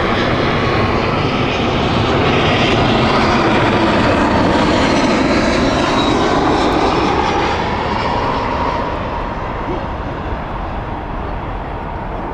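A British Airways airliner arriving from Tirana passes close at Heathrow, a loud engine roar with sweeping whine that peaks then slowly fades as it moves away.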